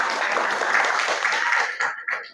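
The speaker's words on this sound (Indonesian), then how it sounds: "Oke, tepuk tangan untuk kita semua." A class claps together during a visual merchandising lesson, producing a brisk, fairly loud wash of hands that holds for about two seconds before breaking into a few separate final claps.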